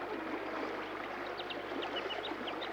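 Snowy River rushes below a swinging bridge a few kilometres from its source near Mount Kosciuszko, a steady, fairly faint wash of flowing water with light trickling detail, no voices.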